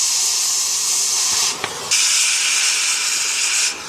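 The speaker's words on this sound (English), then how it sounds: "let's get this torched off" A cutting torch burns off a bronze bushing during a boat trailer welding repair, giving a loud, steady hiss that breaks off briefly partway through and then resumes before stopping.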